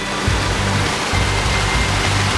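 Water pours steadily over a small concrete dam at a lagoon in Valle de Santa Elena, a loud, constant rushing roar with a low rumble and no voices.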